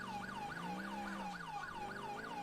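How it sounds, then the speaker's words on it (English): A Federal Signal Smart siren on an NYPD emergency vehicle in GTA IV wails in a fast repeating yelp pattern, steady and moderately loud, over a low engine hum. "The siren, in case you're wondering, is a Federal Signal Smart"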